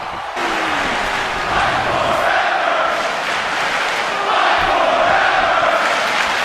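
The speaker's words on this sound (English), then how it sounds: "James, this crowd is going absolutely nuts" A wrestling arena crowd cheering wildly after a pinfall, a dense, loud roar of many voices that holds steady and swells twice, with shouts rising out of the mass.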